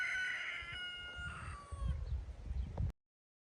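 Chickens on a rural field in the UK on a summer evening give a drawn-out crow and some clucking at a moderate distance, followed by low rustling and handling noise close by.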